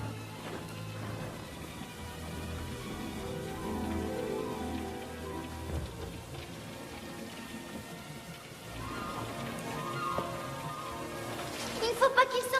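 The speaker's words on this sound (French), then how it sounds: "Regarde, la pluie ne lui fait aucun mal." Steady rain patters on surfaces, a soft continuous hiss with scattered drops, while music and faint voices sit underneath.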